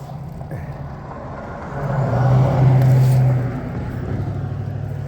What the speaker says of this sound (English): We're waiting for a car to go by.